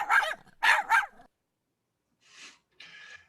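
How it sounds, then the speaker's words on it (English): A yappy little dog gives three sharp, close barks in quick succession, then after a pause two softer, breathier yaps. "That is a yappy little dog."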